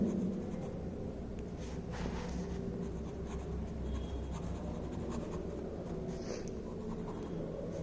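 Chalk or marker writing on a classroom board during an English lesson, faint scratchy strokes in short bursts over a quiet room hum, with no talking over it.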